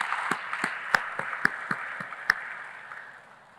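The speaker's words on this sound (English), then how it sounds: "give another round of applause to the finalists" Applause at a youth town hall as the audience claps for the finalists, a scattered round of individual claps over a room-filling wash that tapers off toward the end.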